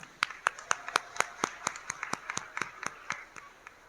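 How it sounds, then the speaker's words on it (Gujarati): An audience claps for children after a school skit, heard as a sparse, fairly quiet run of distinct, evenly spaced hand claps, like a small group or a single pair of hands, in a room with faint background murmur. "બાળકોને તાળીઓ પાડી પ્રોત્સાહન આપશો."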